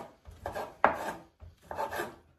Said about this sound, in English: every time I'm chopping that ham